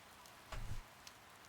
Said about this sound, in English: The soft patter of rain against the window pane.